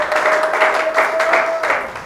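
A church congregation applauding, with dense rhythmic clapping that swells and falls in waves over a sustained tone, loud and close throughout.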